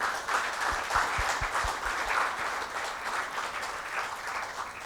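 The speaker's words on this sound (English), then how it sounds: "So, ladies and gentlemen, a round of applause for Sally Ann." Audience applause fills a conference hall at the end of a session, a dense steady wash of many hands clapping for several seconds with no speech over it.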